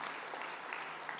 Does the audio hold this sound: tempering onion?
no